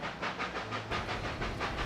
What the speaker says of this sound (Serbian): Zvuk lokomotive je utihnuo